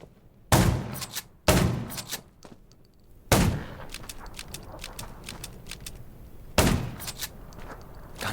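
Gunfire in the zombie survival shooter Undawn: several loud, sharp bursts of rapid shots with reverberant tails and scattered single pops between them.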